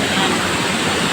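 Strong river water rushes near a waterfall, a dense, loud, unbroken roar filling the whole moment with no pauses or distinct splashes.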